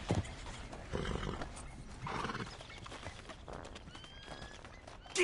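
A horse in Red Dead Redemption 2 walks with steady clip-clopping hooves and lets out a whinny, set against a busy outdoor game soundscape at moderate loudness.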